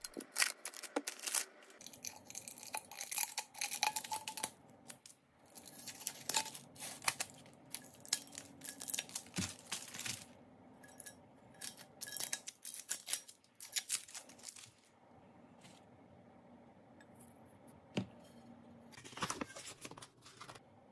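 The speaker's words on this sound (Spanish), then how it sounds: "Ahora comienzo a remover el papel." Sublimation paper is peeled off a heat-pressed tumbler with crackly tearing and crinkling bursts, close and uneven, followed by quieter handling rustles near the end.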